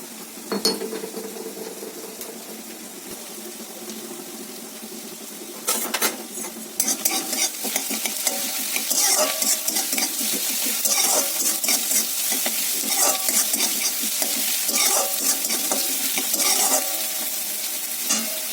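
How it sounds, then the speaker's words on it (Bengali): Chopped onion and crushed garlic sizzle steadily in a pan while a utensil stirs and scrapes against the metal in repeated clinks, close and continuous with no talking. "রসুনগুলো এরকম করে থেতো করে আমি হচ্ছে পেঁয়াজের মধ্যে দিয়ে দেবো, আর এইগুলো সব একটু ভাজা ভাজা করবো।"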